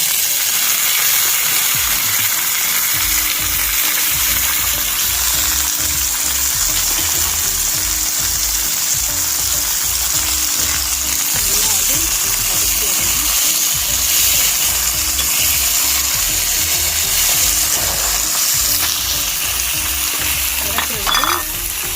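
Onions, green chillies and tomato fry in hot oil for a spicy mushroom chukka, a loud steady sizzle with stirring scrapes throughout and no talk.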